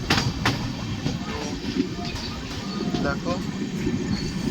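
A Kurla Express train running on LHB coaches, heard from inside the carriage as a steady rumbling clatter of wheels on rails. A voice speaks briefly over it.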